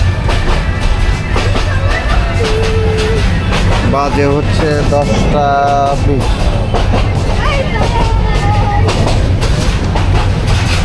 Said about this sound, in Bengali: ট্রেন মোটামুটি ফাঁকা হয়ে গেছে, আমরাও নেমে যাব ময়মনসিংহে